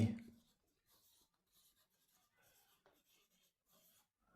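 Quiet scratching of writing on a board during a lecture on Legendre polynomial orthogonality: a loud thump at the start, then soft intermittent strokes in short bursts, close and faint, with no talking.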